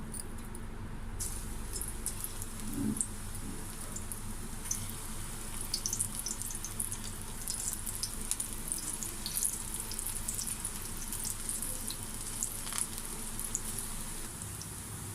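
Spinach pakodas deep frying in a kadai of hot oil, a steady close bubbling hiss with faint clicks and crackles that runs unbroken throughout, no voices.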